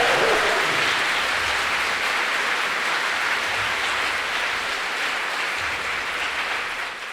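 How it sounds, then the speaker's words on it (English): Sustained, dense applause from a room audience at a political talk and Q&A in Sheffield, steady and full for about seven seconds after a young person's question, tapering slightly at the end. "the room should give them a round of applause."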